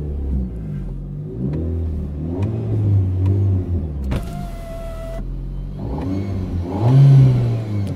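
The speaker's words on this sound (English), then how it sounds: "Let's start her up." An Alpine sports car engine starts with a short electric whir and then rumbles at a mid-pitched idle before revving up near the end, heard close up with no talking.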